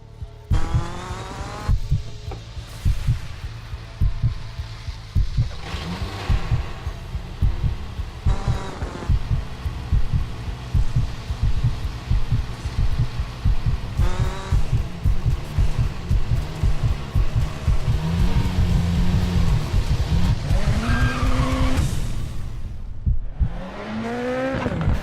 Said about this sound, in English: if you're looking for a new racing game, hot news. Dirt 4 has been announced, and we've got the teaser trailer right here.